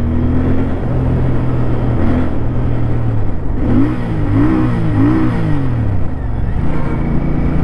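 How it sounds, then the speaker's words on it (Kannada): A 2025 Royal Enfield Interceptor Bear 650 scrambler's exhaust drones loud and close, holding a steady note before rising and falling through several revs, with a whistling whine over the rumble. "ಎಕ್ಸಾಸ್ಟ್ ಸೌಂಡ್ ಸಖತ್ತಾಗಿ ಕೇಳುತ್ತೆ"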